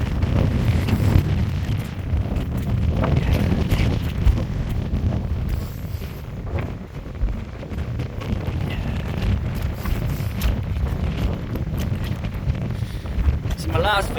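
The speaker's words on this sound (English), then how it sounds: "Quite windy." Strong wind roars and buffets the microphone on the coast of Lundy Island near the North Lighthouse, a continuous heavy rumble with gusts rising and falling and no break.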